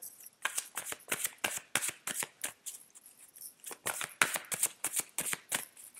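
Tarot cards are shuffled by hand close up, a quick series of crisp riffling snaps and papery flicks in rhythmic bursts with a short pause in the middle.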